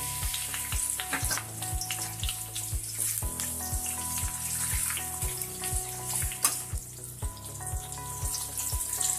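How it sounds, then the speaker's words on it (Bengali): Onions frying in a pan for Bengali muri ghonto, a steady close sizzle with crackling and scraping stirring sounds throughout, no voices. "পেঁয়াজটা আমি একটু ভালো করে ভেজে নিব।"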